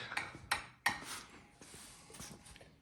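A few sharp metallic taps and scrapes, irregular and fairly quiet, as a chipping hammer knocks slag off a weld.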